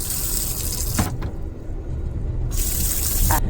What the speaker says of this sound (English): So the water does come on.